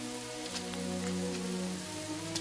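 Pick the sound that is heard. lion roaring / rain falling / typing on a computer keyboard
rain falling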